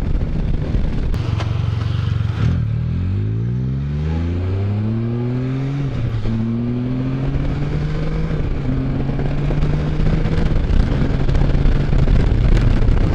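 A Can-Am Spyder three-wheel motorcycle ridden hard and fast, its engine loud and close, climbing through several rising revs and gear shifts under steady wind roar.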